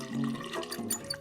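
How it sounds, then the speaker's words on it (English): Water runs steadily from a twist tap in a bathroom, a close, continuous rushing flow with no talking. "Bunny made the water run."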